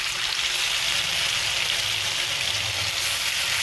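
Cashew paste fries in hot oil with a steady, loud sizzle and a few faint stirring scrapes underneath, while mixed vegetables cook for a vegetarian Bengali lentil-fritter curry.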